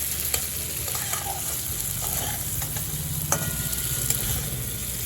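Spice paste fries in oil for a vegetarian paneer, potato and pointed gourd curry, a steady close sizzle with a few soft stirring scrapes and no voices.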